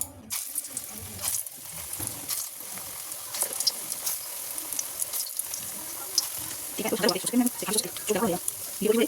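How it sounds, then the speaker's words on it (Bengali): Lentil fritters (dal bora) frying in hot oil, a steady close sizzle and crackle throughout that grows busier and louder near the end. "এখানে তেলও আমার গরম হয়ে গেছে। চলো বড়াগুলো এবার ভেজে নিই চটপট করে।"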